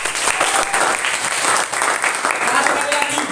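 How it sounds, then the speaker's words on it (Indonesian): A class of primary school children clapping together, brisk dense applause filling the room steadily from start to finish, with some voices mixed in. "Tepuk tangan."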